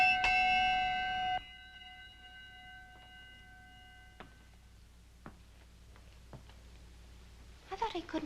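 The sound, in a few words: bell rung by pulling a cord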